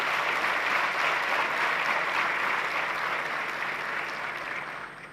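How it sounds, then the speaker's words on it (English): A graduation crowd for the Class of 2025 in Kigali applauds, a thick, loud wash of many hands clapping that continues steadily and fades slightly at the close. "And I want to give you a round of applause."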